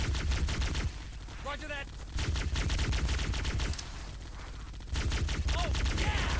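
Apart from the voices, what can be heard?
gunner's cover fire in Halo: Combat Evolved video game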